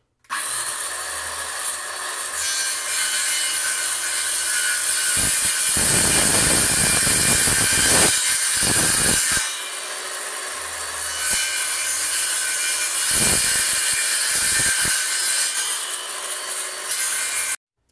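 A hand saw rasps steadily through wood in rough back-and-forth strokes while rebuilding an attic staircase, loud and close, with a few brief pauses between bursts of cutting.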